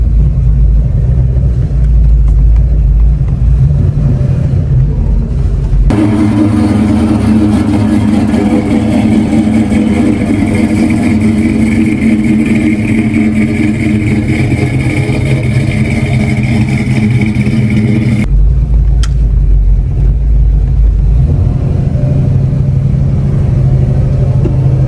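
A 1958 Chevy car out on a test drive, its engine rumbling steadily throughout, swelling into a fuller, stronger roar through the middle stretch before settling back to a lower drone, with no voices.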